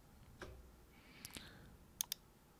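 A computer mouse gives a quick pair of sharp, close clicks, faint and alone in a quiet room, after a few softer handling taps.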